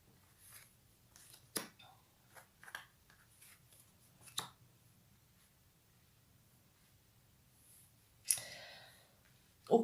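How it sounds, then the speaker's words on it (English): Tarot cards slide and tap on a tabletop in a quiet room: scattered soft clicks and brushes, then a brief louder swish near the end, with no voices. "Let's move these cards over to the side."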